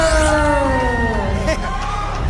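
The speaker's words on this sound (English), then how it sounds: "A blood-curdling scream" A wrestler's long, wavering, blood-curdling scream at ringside during a CCW wrestling event in Miami, loud and close over a cheering, yelling crowd.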